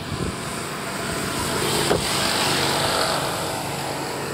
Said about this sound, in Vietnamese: Máy nổ êm lắm các bác ạ.